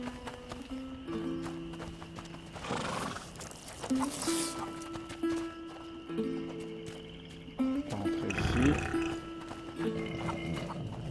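Horse in the A Plague Tale: Innocence video game, snorting and whinnying over a sustained tonal musical score, with a couple of louder neighing bursts and no talking.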